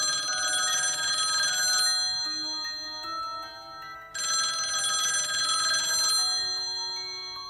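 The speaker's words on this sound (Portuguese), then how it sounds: "E está ouvindo um telefone tocando em algum lugar?" An old-style telephone bell rings in two long, loud metallic bursts separated by a short pause, with a faint ticking in the gaps.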